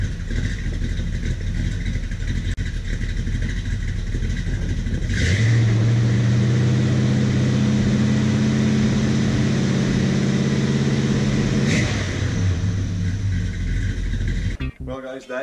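A car fitted with an Edelbrock 600 CFM carburetor and a Power Blast plate idles, then revs up and holds a loud, steady engine drone for several seconds before dropping back, recorded close with a voice heard over it.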